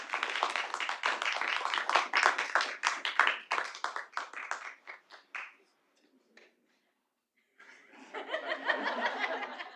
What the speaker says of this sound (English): Let's give her a round of applause as we come.